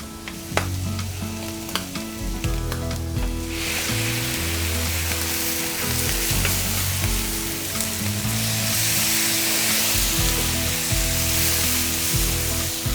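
Paprika and tomato hit a hot paella pan for a seafood paella with anchovies, giving a loud, continuous sizzle and crackle that grows stronger after the tomato goes in, with stirring throughout.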